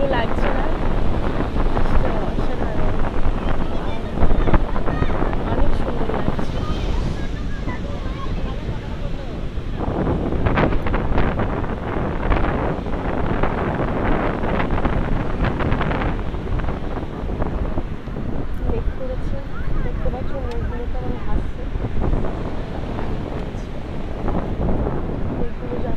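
Sea waves wash continuously onto a beach at Puri, with steady surf and heavy wind buffeting the microphone throughout, while people talk nearby.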